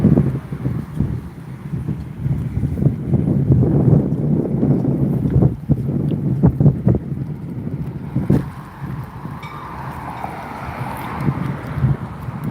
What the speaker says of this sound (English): It's getting windy over here now.